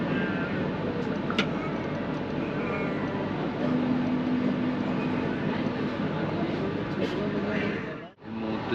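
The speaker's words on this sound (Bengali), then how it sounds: "আমাদের ট্রেন চিত্তরঞ্জন স্টেশন ক্রস করছে" From inside a carriage of the Howrah–Patna Vande Bharat Express passing Chittaranjan station, a continuous loud rumbling roar with a brief whistle-like tone and a short dip near the end.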